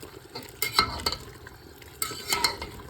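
Salted zirvak for basmati plov stirred in an Afghan kazan, with two bursts of spoon scraping and clinking over a soft frying sizzle, close and brief.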